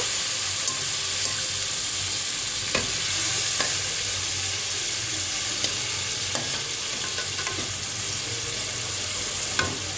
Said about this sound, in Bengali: মাছটা ঢেলে দেবো সুন্দর একটু নেড়ে সবদিকে তেলটা লাগিয়ে দিতে হবে